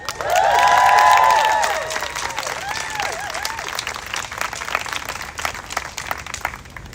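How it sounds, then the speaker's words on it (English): Crowd applause and cheering at a pro-Palestine street march, with whoops and shouts rising over the clapping early on, then continuing as a steady outdoor roar. "Can we give one more round of applause for Sess and Aitana?"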